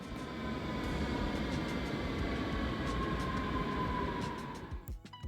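A Berlin metro train running steadily, a loud continuous rumble with a faint high whine that holds for most of the ride before tapering off near the end.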